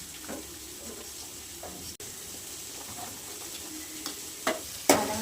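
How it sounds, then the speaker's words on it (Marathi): Quiet scraping and stirring of a thick gram flour mixture with a spoon, soft strokes over a faint sizzle, with a few sharper clinks near the end. "चमच्यानेच हलवून घेणार आहे आता."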